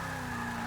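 A Plymouth Prowler V8 in Forza Motorsport 6 holds a high, steady rev, a sustained buzzing engine tone heard alone and fairly faint for under a second.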